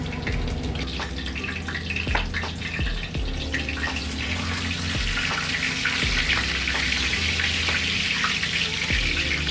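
Burger steak patties sizzling steadily in a hot frying pan, a continuous broadband hiss with scattered crackles and pops running throughout, fairly close and loud, with no talking.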